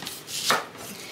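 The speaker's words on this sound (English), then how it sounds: "I think the first thing I'm going to do is cut up my onion here." A kitchen knife cutting through an onion, a single crisp chop against a board, close and brief amid quiet room noise.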